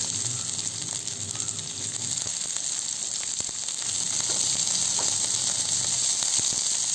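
Onions sizzle and hiss steadily in oil in a pan, a continuous close frying crackle with occasional pops, no talking.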